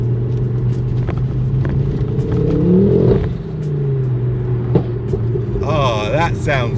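A Ford Focus RS engine hums and revs inside the car, a steady low drone rising and falling as it accelerates with gear changes, while people talk over it.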